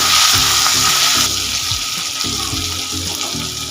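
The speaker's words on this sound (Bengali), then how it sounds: "এইবার আলু বেগুনটা লাল করে ভেজে নেব।" Potato and eggplant pieces frying in a pan with salt and turmeric, a loud, dense, steady sizzle close up, with faint scraping and shuffling beneath it and no voices.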